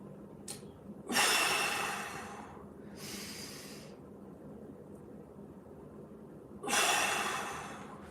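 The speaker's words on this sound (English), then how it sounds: "2 more big breaths." Deep breaths taken slowly during a guided breathing exercise, two long airy inhale-exhale swells several seconds apart over a steady low hum of room noise.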